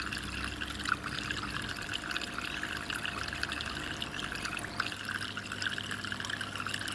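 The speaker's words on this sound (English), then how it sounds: "we're going to see is a couple of drips and a trickle underneath the grow bed" Water trickles and pours steadily from an aquaponics bell siphon under a grow bed, a soft continuous splashing with faint hollow gurgles and no voices.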